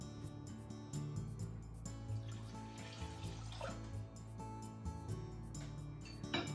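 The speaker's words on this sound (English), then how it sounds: "fill it up to 2 cups with cold water" Cold water is poured from a tap into a pot of rice while cooking Pacific saury rice, a steady close splashing and trickling stream with faint clinks of the pot.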